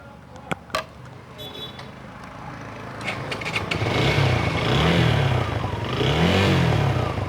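A Suzuki Gixxer motorcycle engine at a second-hand bike showroom idles roughly, then revs up and down in a few swelling surges, close by and fairly loud.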